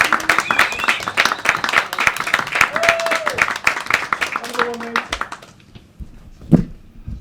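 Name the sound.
comedy club audience clapping, whooping and cheering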